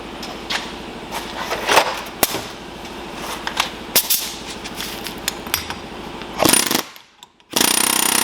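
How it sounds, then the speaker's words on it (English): A pneumatic air hammer rattles in rapid bursts, stopping and restarting several times while driving out a 2005 Toyota Prius front wheel bearing, followed by a sharp hiss of air near the end. "I'm going to have to use the air hammer to get this through the rest of the way."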